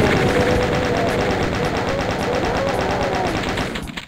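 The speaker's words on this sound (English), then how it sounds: "One of the worst things to deal with is chain gunners shooting at you in the dark." Chaingunner enemies in Doom 2 fire chain guns in a steady, rapid stream of loud rattling shots that continues unbroken before dropping off right at the end, with no voices over it.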